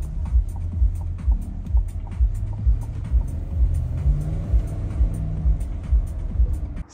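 A Chevrolet Suburban driving on the road, a steady low engine drone with rhythmic thumping pulses and road rumble, heard from inside the vehicle, no talk.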